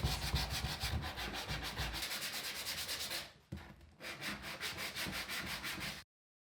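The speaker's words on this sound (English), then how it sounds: "get out some 120 grit sandpaper and sand this all nice and smooth" Wood being sanded by hand with 120 grit sandpaper in a small workshop, steady rhythmic back-and-forth strokes that stop briefly midway and then resume, close and alone.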